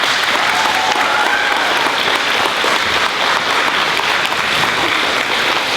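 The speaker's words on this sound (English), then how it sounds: "a big round of applause for them" An audience at a fifth grade recognition day bursts into loud, continuous applause for the students, a thick wash of clapping that stays steady from start to finish.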